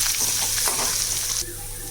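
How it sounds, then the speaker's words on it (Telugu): Tempering of urad dal, cumin, mustard seeds, green chillies and onions sizzles in hot oil in a pan, a dense steady frying hiss that drops a little toward the end. "రెండు చెంచాలు మినపప్పు కొద్దిగా జీలకర్ర కొంచెం ఆవాలు ఇవి వేగుతుండగా పచ్చిమిర్చి ఆనియన్స్ కూడా వేసేసుకుని వేపేసుకున్నాం"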